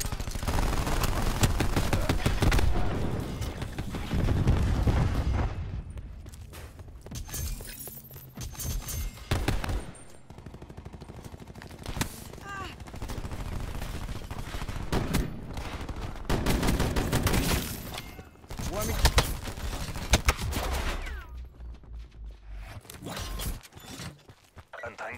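Cluster grenades go off in Call of Duty: Black Ops 4, producing a dense string of loud explosive bursts and rapid popping blasts. Heavy rolling gunfire-like crackle continues through most of the stretch, with short lulls between volleys.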